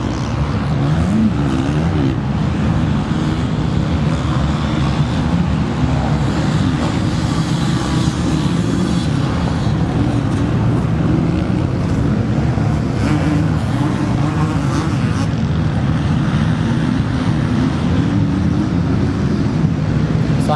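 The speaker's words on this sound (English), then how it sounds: "Getting that power down on that 450, trying to keep that front wheel down." A 450 motocross bike engine runs hard under power during a vets and women's race at Cessnock, a loud continuous roar with steady drone throughout.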